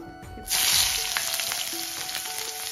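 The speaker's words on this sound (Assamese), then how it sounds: "এইফালে আকৌ মোৰ তেল গৰম হৈছে গতিকে এতিয়া বহাই দিওঁ পিঁয়াজখিনি" Onions dropped into hot oil erupt into a sudden loud sizzle about half a second in, then settle into a steady close crackle that continues to the end, with faint stirring and a background hum.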